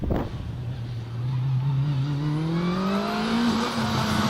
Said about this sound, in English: You can hear the turbo whistling as he goes through